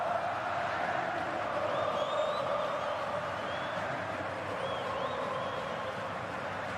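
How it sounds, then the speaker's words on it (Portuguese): Atlético Paranaense supporters in a football stadium, a distant, steady crowd roar with faint chanting and scattered whistles, continuous and low in level. "Torcida do Atlético Paranaense tentando incentivar o time"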